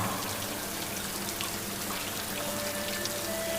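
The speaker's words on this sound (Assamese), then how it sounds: "যাওঁ যাওঁকৈ বৰষুণ জাকো পৰিলে।" A constant patter of rain falls on surfaces, with dripping water mixed into a steady, even hiss.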